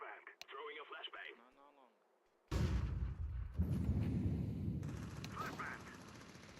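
A flashbang grenade goes off in a video game: a voice speaks briefly, then a sudden loud blast gives way to a sustained roar of noise that fades slowly.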